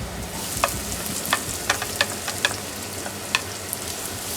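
Chopped garlic and red onion sizzle in a pan with a steady frying hiss, punctuated by several sharp scraping clicks of stirring at irregular intervals, close up with no speech.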